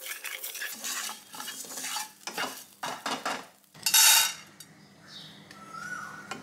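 Roasted sesame seeds are scraped and stirred from a metal pan onto a plate, with bursts of scratching and rattling, a sharp clink of utensil against the cookware, then softer settling.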